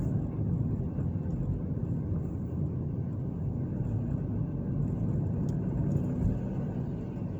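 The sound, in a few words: car driving down a town avenue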